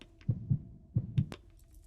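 A heartbeat sound effect: two muffled, low lub-dub pairs thump close by, followed by a brief sharp click, with no talk.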